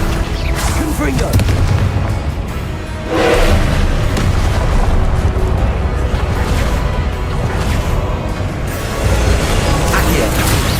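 Spell blasts and booms from Confringo, the explosive spell in Hogwarts Legacy, go off repeatedly amid a dense, loud wash of game combat noise, with a voice speaking over parts of it.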